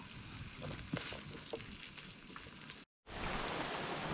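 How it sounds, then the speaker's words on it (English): Rain comes down suddenly at a lakeside campsite in the Adirondacks, a steady soft patter of drops on surfaces with a brief cut in the sound before the shower resumes. "This rain suddenly coming down certainly interferes with my plans to cook over the campfire."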